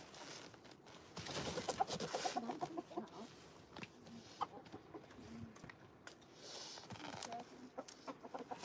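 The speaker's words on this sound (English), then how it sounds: "they're not morning chickens, that's for sure" Chickens in a coop on a snowy morning give soft, irregular clucks and low murmuring calls, close and quiet, with scattered rustling between them and no talking.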